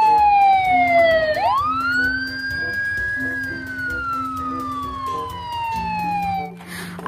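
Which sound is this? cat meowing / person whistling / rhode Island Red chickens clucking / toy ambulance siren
toy ambulance siren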